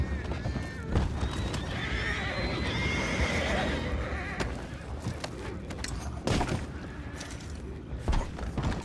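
Horses in Red Dead Redemption 2 whinny and neigh amid clattering hooves and a busy, noisy background, with several calls rising over the commotion.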